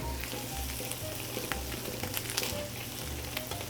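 Diced pancetta frying steadily in a pan, a close, continuous sizzle and crackle with small pops running through the whole stretch, no voices over it.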